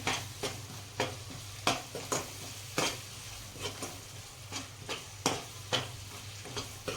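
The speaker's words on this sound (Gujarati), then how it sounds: "એને આપણે આ રીતે મિક્સ કરી અને ચડવા દઈશું થોડી વાર" Garlic, green chili and ginger paste cooks in a pan while a spoon stirs it, making repeated sharp scraping strokes over a constant nearby sizzle, with no voices.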